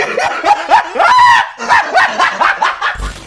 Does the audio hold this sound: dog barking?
yes